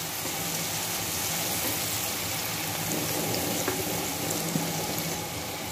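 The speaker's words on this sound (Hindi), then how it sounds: "अदरक लहसुन का पेस्ट डालेंगे, बिस्मिल्लाहिर्रहमानिर्रहीम, और इसे भूनेंगे" Ginger garlic paste sizzles in a hot pan, a steady crackling fry running without pause, with a couple of faint clinks near the end.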